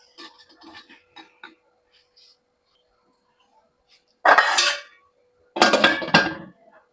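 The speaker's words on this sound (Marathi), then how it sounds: "आता आपल्याला स्टँड या भांड्यामध्ये ठेवून घ्यायचे आहेत" Light metallic clinks and taps at first, then two loud clattering bursts of metal against metal as idli stands are set down into a metal pot of boiling water.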